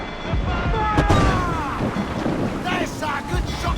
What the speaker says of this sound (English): this part of the map is like locked in eternal kind of like thunderstorms and stuff.